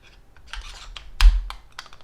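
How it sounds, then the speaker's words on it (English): A CRKT S.P.E.W. knife rattling loosely inside an injection molded plastic sheath, a series of quick, close clicking and scraping knocks with one sharper clack near the middle. "the knife rattles around in the sheath"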